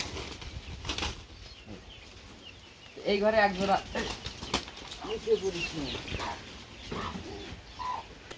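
Pigeon squabs' wings flutter in brief bursts while cooing rises in the middle, with someone talking intermittently nearby.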